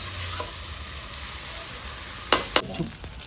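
Onion, garlic and ginger frying in a pan give a constant sizzle, broken near the end by two or three sharp scrapes and taps of a spatula stirring the pan.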